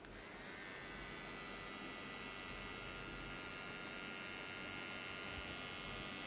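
A one-speed Fade King hair trimmer fitted with a white blade runs quietly with a steady, even electric whine that holds unchanged, close and alone.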